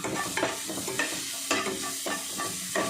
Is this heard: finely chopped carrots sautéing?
yes